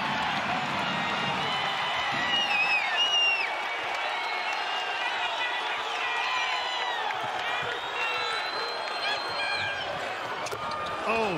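Crowd noise fills a basketball arena at an NCAA men's NIT quarterfinal between Cincinnati and Utah Valley, a steady roar of cheering and scattered clapping with whoops over it, lasting throughout, with a commentator's voice running on top.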